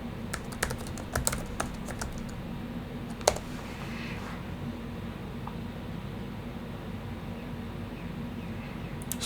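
Quick, light keystrokes on a computer keyboard click in a short cluster near the start, followed by a few scattered taps over a low steady hum, fairly faint and with no talking.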